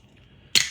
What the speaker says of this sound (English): let's crack open our bamboo and grapefruit flavored soda